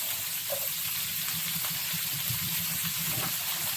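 Haluski cabbage ingredients simmering in a pan, heard as a soft, steady broadband hiss and bubbling with low rumbling underneath, continuous and even with no voices.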